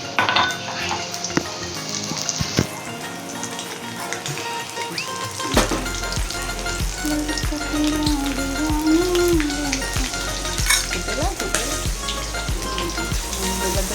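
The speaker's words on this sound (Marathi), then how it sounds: "तेल गरम झालं. आता ह्याच्यात आपण लसूण माझं ठेचलेलं लसूण ते टाकायचं" Crushed garlic hits hot oil in a pan and sizzles steadily, while utensils clink and scrape close by and a faint voice sounds in the background.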